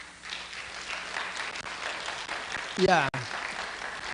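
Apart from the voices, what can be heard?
audience applause at a graduation ceremony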